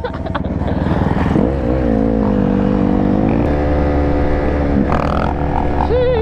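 A 450 dirt bike engine revs hard while its rear wheel spins, a loud close whine that rises and holds in pitch, dips, then climbs again.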